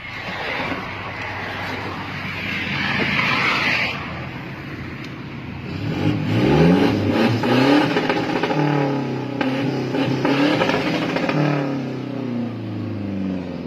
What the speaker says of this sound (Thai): เราฟังเสียงเบิ้ล